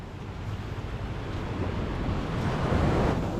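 Ocean waves break and surge at sea off Sabang, Baler, Aurora, where a net-fishing crew is at work. The steady, building roar of surf is mixed with gusty wind buffeting the microphone, with no voices.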